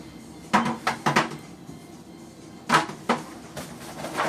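Cubes of chinchin dough drop into a greased metal baking pan, giving several sharp clattering knocks in two bursts with a quiet pause between them.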